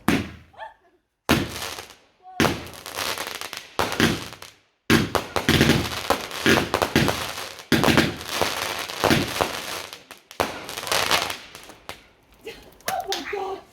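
Fireworks going off in a rapid irregular series of sharp cracks and booming bangs, loud and close, with brief gaps between bursts.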